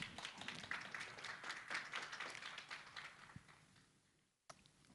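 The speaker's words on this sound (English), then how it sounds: "Applause, please." Audience applause at an award ceremony during Kazan Forum 2024: a faint, steady patter of many hands clapping that tapers off, then stops abruptly before a brief final burst.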